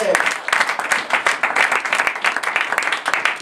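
A church congregation claps and cheers together in rapid, dense applause that holds steady throughout, with voices mixed into the clapping.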